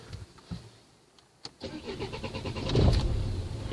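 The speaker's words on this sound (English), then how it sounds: "Let's gonna try to start the engine again." A 2004 Renault Scenic 1.9 dCi diesel engine cranks with a few sharp clicks, then catches and settles into a steady, rising idle rumble up close.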